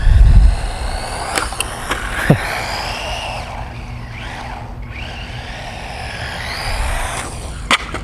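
A WLtoys 20402 1:20 4WD RC truck spins out on wet pavement. A sharp thump opens the clip, then steady close-range motor whine and tire hiss run throughout, with a few brief clicks.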